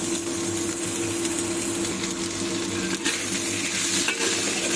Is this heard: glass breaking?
no